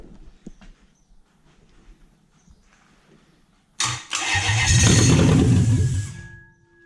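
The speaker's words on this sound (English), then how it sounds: "Engine starting." A Lexus LS400 UCF20 V8 engine mounted on a stand cranks briefly with faint clicks, then catches and starts with a sudden loud roar, running strongly for a couple of seconds before dropping away.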